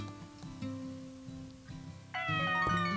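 A cat in the farming video game Story of Seasons: Pioneers of Olive Town meows, a short clear game meow rising over soft background music, no talking.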